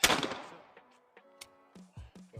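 A rifle fires a single sharp shot outdoors during chambering practice, a loud close crack that decays quickly, followed by faint clicks and clanks of handling.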